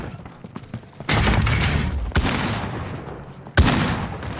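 Unsuppressed automatic gunfire in Call of Duty: Modern Warfare crackles in a loud sustained burst, followed by a sharp single blast near the end, with no talk during the shooting.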